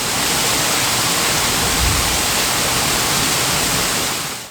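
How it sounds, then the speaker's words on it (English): A woodland waterfall in the High Weald of East Sussex roars as a steady, loud, close wash of falling water that stays unbroken from start to finish. "These are just some of the hidden waterfalls that appear across the High Weald when conditions are right."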